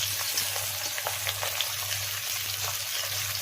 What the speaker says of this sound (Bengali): তেলটা গরম করে পেঁয়াজটা ছেড়ে দিলাম।